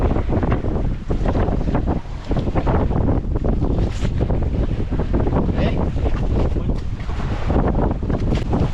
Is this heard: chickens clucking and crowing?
no